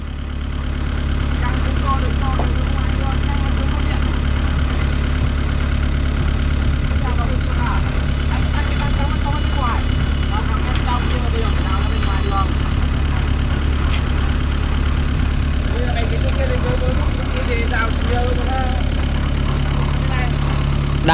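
Doosan DX55 excavator engine running at a construction site, a steady loud diesel drone with clanks and scrapes of work throughout, voices talking over it.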